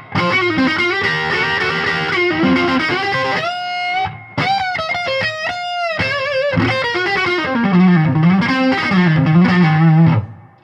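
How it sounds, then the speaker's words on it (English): Electric guitar through a Jim Kelley amplifier with a bluesy tone, played alone and up close: flowing lead phrases with sustained bends and quick runs, steady volume and a brief pause midway. "You get this really nice, clean,"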